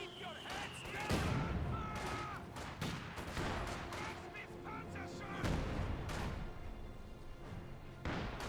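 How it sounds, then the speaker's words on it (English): An artillery barrage in the strategy video game Company of Heroes 2 brings repeated booming impacts and crackling volleys in irregular bursts, loud and dense, with a commentator talking over the battle. "This barrage onto the Vickenwerfers."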